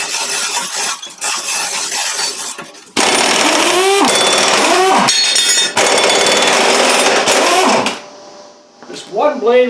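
Blades being changed on a Scag mower with a power tool, loud sustained rattling bursts with short breaks between them, ending in a few quieter metallic clatters.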